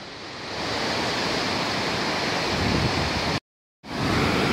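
Flooded River Ogmore rushing beside an old stone bridge: a loud, steady broadband roar of fast water that briefly cuts out near the end before returning.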